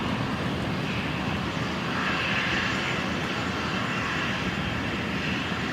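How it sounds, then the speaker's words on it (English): An all-white Embraer jet taxis at Brisbane Airport, its engines a steady, broad roar with a whining hiss that holds level throughout and swells slightly midway, with no voices. "The albino Embraer on the move."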